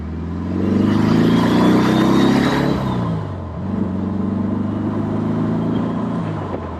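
A Porsche 356 Speedster engine drones while driving, rising in pitch under acceleration, dipping briefly at a gear change, then pulling steadily again, close and moderately loud.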